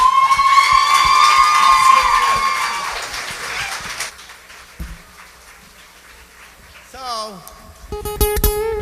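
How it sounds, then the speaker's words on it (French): A crowd applauds and cheers loudly for several seconds, then the noise fades into lighter clapping and scattered voices. "on applaudit très fort William Deslauriers."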